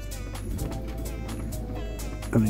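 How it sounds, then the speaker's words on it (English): A worn wheel bearing on a car gives a steady droning rumble with a faint whine, close and moderately loud, and a brief louder knock near the end. "I also think the wheel bearing's gone"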